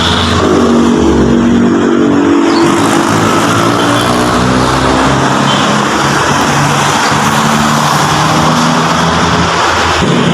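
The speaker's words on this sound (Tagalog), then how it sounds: "grabe pa lang tambutso nito" A 2021 Toyota 86 in a workshop for an oil change, its engine running loud and steady through a throaty exhaust with sustained revving that dominates the clip.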